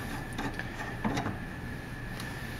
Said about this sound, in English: This and this together is called a ring stand. And it just screws right into here like this.